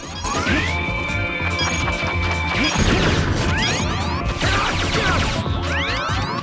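A rolling trash ball from Mega Man X7 crashes and smashes loudly in repeated impacts, layered with sweeping synthetic game effects and a rising tone, close and dense over a steady background.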